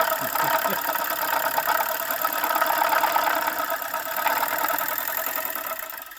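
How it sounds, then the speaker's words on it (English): A dual armature counter-rotating motor runs with a steady mechanical hum and whir, its level swelling and easing slightly before tapering off at the end. "they said was a dual armature counter-rotating motor"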